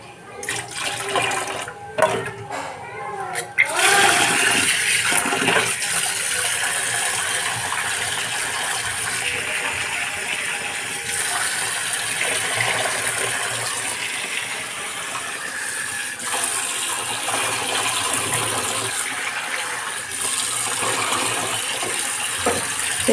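Soaked red lentils and raw rice are washed in water, with steady splashing, swishing and pouring throughout, an early burst of clattering, and no talk.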